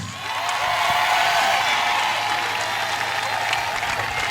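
A church congregation applauds loudly at a prophecy, deliverance and healing service, a thick, continuous roar of clapping that swells in and stays strong throughout.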